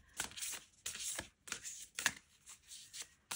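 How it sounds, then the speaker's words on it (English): A deck of playing cards is shuffled close up at a desk, giving a series of quick riffling bursts and soft slaps in an uneven rhythm, quiet overall and with no talking. "I'm just going to give it a shuffle and we'll see what card I get to focus on this week"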